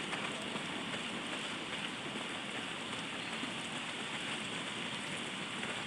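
Steady heavy rain pours down in a video game, a dense, even hiss that holds at the same level throughout with no voices over it.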